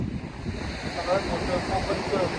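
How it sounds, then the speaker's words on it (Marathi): Ocean waves crash and wash onto Malvan beach in a steady, loud roar of surf with wind buffeting the microphone, continuous and close. "हे बघा लाटांचा आवाज एवढा यायला लागले की काय सांगायलाच नको, कानठळे बसायला लागले"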